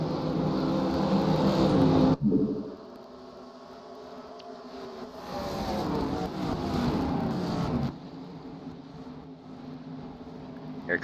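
Modified race cars run nose to tail at New Hampshire, their engines roaring loudly in one surge, then dropping to a quieter drone before swelling again as the pack passes.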